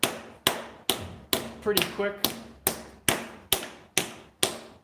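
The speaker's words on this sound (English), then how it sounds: "Take a hammer to it, I guess." Regular metal hammer blows on a bicycle fork during installation, about ten sharp strikes at a steady pace, with a brief spoken remark partway through.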